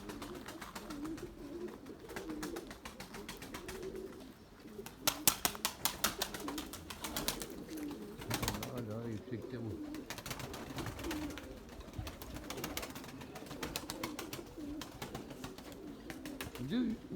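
Low, soft coos from white pigeons in a coop murmur steadily throughout, with occasional wing flutters and some brief clattering near the middle.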